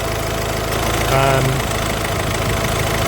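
2016 Honda Civic diesel engine idling in a garage, a steady low rumble with a rhythmic knock, loud and close, while a voice briefly talks over it.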